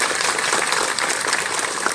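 A crowd at an outdoor history concert at Namhansanseong welcomes panelists with sustained clapping, a steady, even roar of hands throughout.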